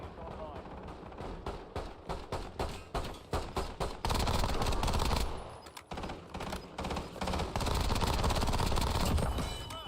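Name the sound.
gunfire in the video game Warzone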